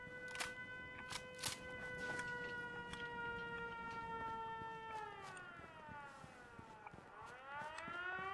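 An air-raid style siren in the video game Fallout 4, a loud sustained wailing tone that holds steady, then falls and rises again in a sweeping arc.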